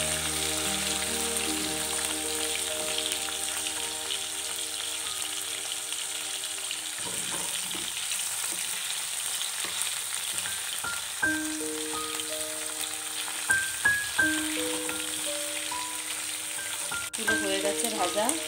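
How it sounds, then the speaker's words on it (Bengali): Prawns fry one after another in hot oil for a shrimp khichuri meal, a continuous dense sizzle that grows crackly with sharper pops and spatters toward the end, with no voices. "দেখো মাছগুলো আমি এবার একটু একে একে তেলের মধ্যে দিয়ে একটু ভেজে নেবো।"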